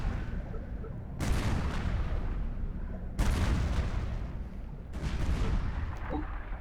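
Regular cannons in the Supreme Commander 2 strategy game fire in three heavy booming volleys, each a loud blast trailing into a rumbling decay, with no talk.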